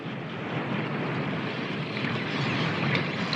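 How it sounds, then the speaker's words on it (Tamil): Steady cartoon wind in an animated Heidi episode, a continuous soft whooshing rush with no voices, even and moderately faint throughout. "எனக்கு காத்தோட சத்தம் ரொம்ப நல்லாவே கேக்குது தாத்தா."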